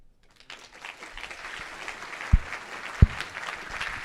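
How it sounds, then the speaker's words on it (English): Steady applause from a standing-ovation crowd builds and holds, with two sharp claps or thumps standing out near the middle. "Let me hear that wave of applause."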